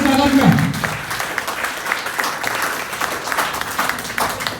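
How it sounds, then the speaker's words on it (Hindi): Loud applause rises to welcome a retiree at a farewell party, a dense, lively clatter of many hands running the whole stretch, with a voice briefly audible at the start. "तो एक बार जोरदार तालियां हो जाए मल्होत्रा जी के स्वागत में"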